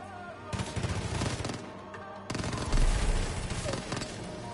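Bursts of SMG fire in the Far Cry 5 video game, set in Hope County, rapid repeated shots in two dense stretches over a noisy game mix.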